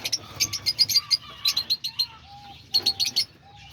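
Caged birds, including diamond doves, lovebirds, parakeets and button quail, give quick bursts of bright chirps and tweets, with softer low cooing underneath, nearby and clear.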